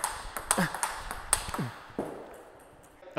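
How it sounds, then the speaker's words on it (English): A table tennis ball bounces off a paddle faced with Butterfly Rozena rubber, giving a few close, crisp clicky pings spaced irregularly over a quiet background. "it's got a nice clicky sound, a little bit softer than the Tennergy"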